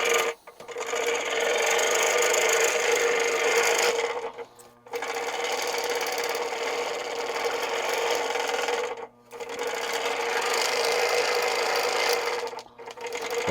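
A kids' jigsaw cuts through wood with a rapid, buzzing reciprocating rasp, running in long steady passes broken by two brief stops, loud and close.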